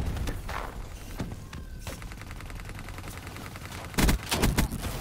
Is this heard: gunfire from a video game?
yes